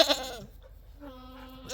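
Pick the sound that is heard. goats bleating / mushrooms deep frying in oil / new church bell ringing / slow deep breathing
goats bleating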